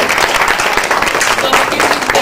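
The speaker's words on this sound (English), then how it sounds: "let's give her a round of applause" Steady applause from a crowd at a fashion show, dense clapping filling the whole stretch at an even, fairly loud level.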